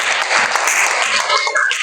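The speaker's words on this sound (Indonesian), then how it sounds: "Oke, tepuk tangan dulu" A class audience applauds briefly in a quick burst of close, dense hand-clapping, mixed with a few faint voices.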